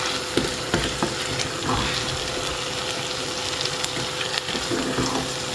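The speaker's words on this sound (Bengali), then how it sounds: "শাক দিয়ে দিয়েছি আর আমি আজকে হচ্ছে ফ্রোজেন শাকটা ইউজ করছি" Chopped frozen spinach sizzles and fries in a pan, a steady broadband crackle with occasional stirring clicks and faint watery sounds, close and continuous without talk.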